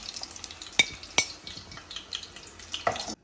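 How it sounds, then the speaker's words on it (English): Sweet corn samosas deep frying in hot oil give off a steady, soft bubbling hiss, broken by a few sharp metallic clinks of a utensil against the pan. No voices. "We'll fry this until it is golden brown."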